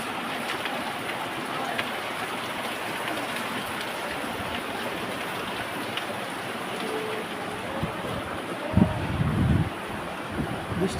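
Rain falls in a continuous soft wash of patter with some low wind rumble. It holds steady throughout, and a few louder thumps come near the end.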